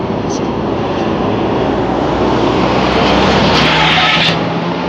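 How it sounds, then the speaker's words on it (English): A truck engine runs steadily from inside the cab, a loud continuous drone with road roar that rises slightly toward the end, and a voice speaks over it. "Sorry, your truck sounds weird."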